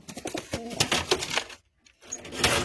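Madrasi pigeons in a pigeon loft give repeated throaty cooing and rustling close by, broken by a brief quiet gap before the cooing resumes.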